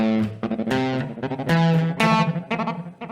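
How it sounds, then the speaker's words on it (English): Electric guitar notes chopped into rapid stuttering repeats by an Ecosystem stutter delay, with a wavering vibrato and a distorted, effected tone, no voices. "the stutter delay from Ecosystem, which really chops up your sound a little bit"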